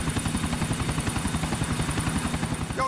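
A helicopter in Grand Theft Auto 4 chops steadily and rhythmically at moderate volume, with regular rotor thumps and no talk.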